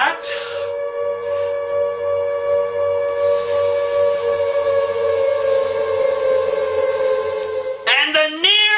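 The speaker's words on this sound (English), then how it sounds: "And the near-constant sirens!" A loud, sustained wailing siren holds steady for several seconds, then sweeps and warbles near the end, close and dominant.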